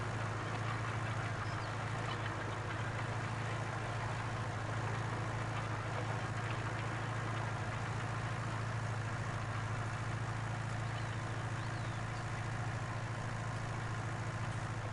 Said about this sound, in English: So it's not a very powerful tractor